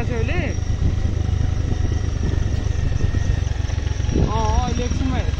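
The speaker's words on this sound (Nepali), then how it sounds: "म बाइक चलाइरहेको छु अहिले" A motorbike rides along a mountain road toward Chauri Deurali in Nepal, its engine drone steady and close throughout, with brief voice-like warbles near the start and end.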